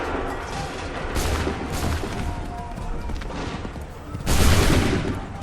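Muskets fire a volley on command in Assassin's Creed 3. A broad, rolling crackle of many shots fills the whole stretch, with a heavier burst near the end, all set against a dense battle din.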